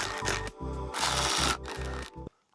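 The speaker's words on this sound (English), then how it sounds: "I'm only running them up with the mechanical ratchet." A mechanical ratchet runs up the bolts on a new ZTechnik VStream windscreen fitted to a BMW R1300 GS, giving several close, rapid bursts of clicking separated by short pauses before ending abruptly.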